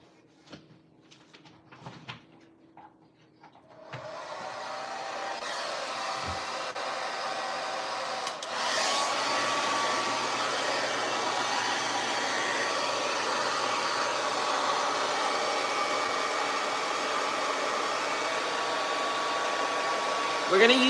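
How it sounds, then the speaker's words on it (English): A hair dryer fitted with a diffuser drying a grey wig switches on after a few soft knocks and handling sounds, then blows in a steady loud whoosh that steps up a notch partway through and runs on. "We're gonna use this diffuser to dry the hair because we don't want to use a blow dryer."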